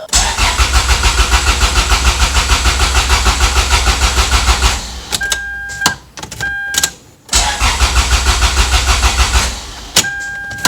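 Freshly built Toyota MR2 Spyder turbo engine cranking in rapid rhythmic pulses for several seconds, then short bursts of cranking broken by warning chimes and pauses, close and loud without catching.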